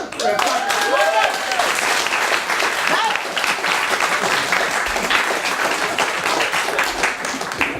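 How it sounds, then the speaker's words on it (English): Sustained, loud applause from a large audience at a rhyming battle performance event, dense steady clapping filling the whole stretch with crowd noise and a few whistle-like tones early on. "A huge round of applause once again"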